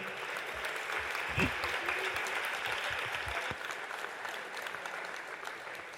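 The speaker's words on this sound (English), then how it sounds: "I love the round of applause." Sustained, even applause from an audience at a school signing day celebration, a steady wash of many hands clapping at moderate distance, with a few low thumps underneath and no voices standing out.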